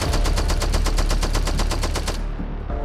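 A loud, rapid burst of automatic gunfire, a steady stream of evenly spaced shots that cuts off abruptly into a fading tail.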